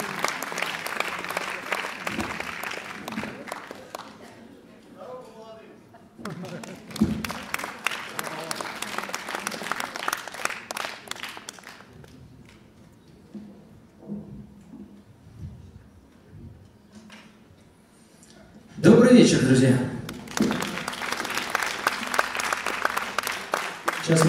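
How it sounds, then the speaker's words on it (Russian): Concert audience applauds a band at a festival gala, with bursts of clapping that fade and return, a loud surge near the end, and a voice talking between them. "Вот вы эти аплодисменты, пожалуйста, для них."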